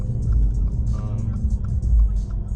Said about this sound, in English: hopefully the audio on the GoPro picks up the exhaust pretty good